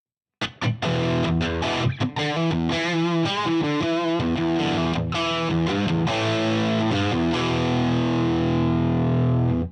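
Distorted electric guitar played through a Line 6 Helix JCM amp model, loud and continuous with chugging chords and sustained ringing notes, played alone with no talking.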